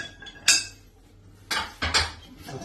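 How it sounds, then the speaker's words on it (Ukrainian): A metal lid comes off an Afghan kazan cooking pot in a few separate clanks and scrapes, with a sharp bright clatter near the start and two more metallic knocks later, close and fairly loud. "Знімаємо коронницю, кришку."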